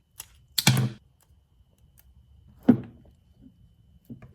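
Wire cutters snip through the wires of an RC car motor plug on a RedCat Gen 8 V2, giving a few sharp, close clicks separated by pauses, with a fainter snip near the end.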